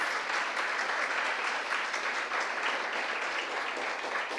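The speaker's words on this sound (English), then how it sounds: "Please clap for Harun as he comes" Audience at an international university dinner applauding a student called to receive a certificate, a dense, even wash of clapping held at steady volume.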